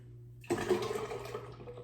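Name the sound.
pouring liquid mixture into water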